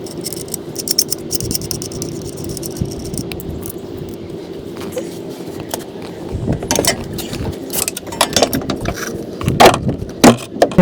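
Strut nuts being loosened by hand on a 2002 Toyota Highlander during front strut replacement, with scattered metallic clicks and scrapes that grow busier and louder toward the end, no talking.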